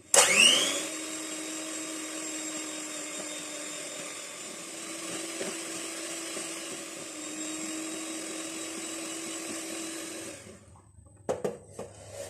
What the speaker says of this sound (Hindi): अंडों की जो सफ़ेदी है इसे अच्छी तरह से बीट कर लेते हैं।